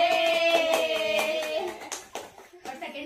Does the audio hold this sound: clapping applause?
yes